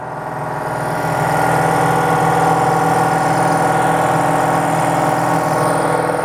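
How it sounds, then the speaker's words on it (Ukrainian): Powerful compressor running inside its casing on a trade show floor at an automotive service exhibition, a steady loud mechanical drone with a constant hum and no speech, rising slightly in the first second then holding level. "В ньому стоїть компресор, достатньо потужний, який випромінює звук."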